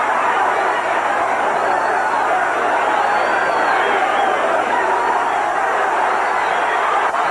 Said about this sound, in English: The crowd is calling off every blow that Rosario lands.